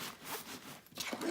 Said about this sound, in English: So I'm gonna zip that up and put it in the bag